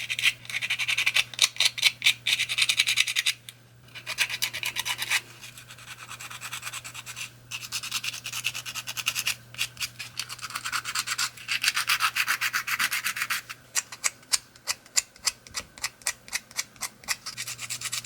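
Dried air-dry clay fish pieces are sanded by hand, close-up rhythmic scratchy rubbing strokes in bursts with short pauses, some quick and choppy, alone with no voices.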